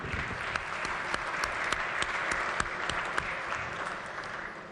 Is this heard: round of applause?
yes